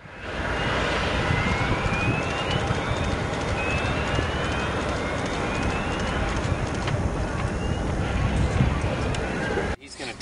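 Crusher, a military unmanned ground vehicle, drives around containers with a loud, steady engine roar and rumble that holds throughout before cutting off at the end, with someone talking over it.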